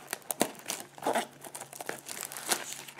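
Close, quiet crinkling and tearing of plastic wrapping as it is pulled off a Cardfight!! Vanguard Revival Collection 2 card box, in uneven bursts of rustle.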